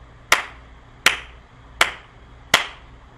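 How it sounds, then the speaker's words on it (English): Four sharp hand claps counting out one measure of four beats, evenly spaced and close, each a crisp smack that fades quickly into a quiet room, with no talking. "4 claps, 4 beats, we're in 4."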